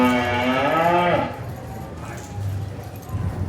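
A red steer moos loudly and close for about a second at a cattle auction, followed by quieter shuffling and low livestock noise.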